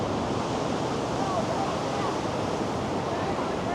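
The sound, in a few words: waves on a beach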